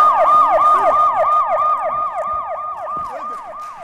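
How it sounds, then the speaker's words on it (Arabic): A gas delivery vehicle's horn sounds like a siren, repeating a fast rising-and-falling wail in a steady cycle. It is loud and close, then fades a little as it continues. "يا عم ده مش بوليس، ده بتاع الغاز"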